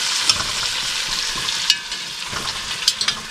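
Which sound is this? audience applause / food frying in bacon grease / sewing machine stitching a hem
food frying in bacon grease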